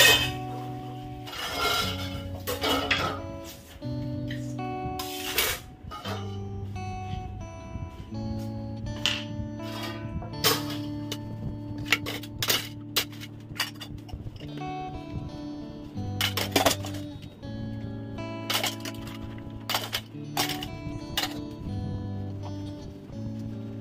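Steel utensils and dishes clink and clatter during washing in a home kitchen, with irregular sharp metallic rings, scrapes and bangs close by and running water beneath, no talking.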